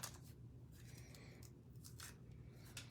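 Scissors snipping paper while trimming pieces for a Stampin' Up! Naughty & Nice book treat box, a few quiet close cuts with soft scraping.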